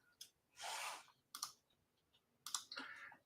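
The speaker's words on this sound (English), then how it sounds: "And then let's type in Google Ads." Keys tapped on a computer keyboard in short separated bursts, a quick cluster of clicks, then isolated taps and another brief flurry, fairly quiet and close with no talking.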